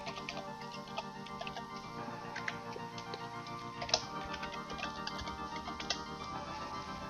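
Administrator credentials being typed on a computer keyboard, faint, irregular key taps and clicks over a low steady background hum, no speech.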